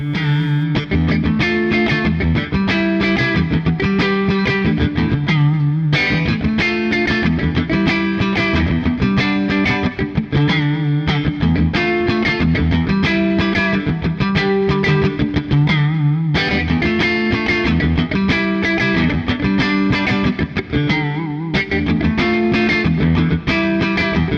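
An Epiphone 2024 Joe Bonamassa '55 Les Paul electric guitar plays a distorted repeating chord riff with a chorus-like shimmer, loud and steady throughout, no voices.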